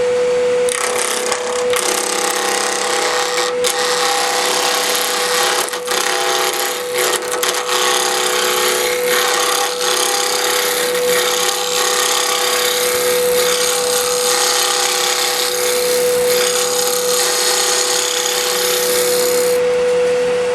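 A roughing gouge cuts wood spinning on a lathe, giving a loud continuous rasping and scraping with a steady motor whine running throughout and no talk.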